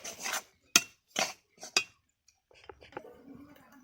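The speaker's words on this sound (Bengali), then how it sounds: "ভালো করে ডালটাকে নাড়াচাড়া করে নিচ্ছি।" A spoon scrapes and clinks against a pot while stirring lentil dal: several sharp, distinct strokes, then softer rubbing and light knocks, close and fairly quiet.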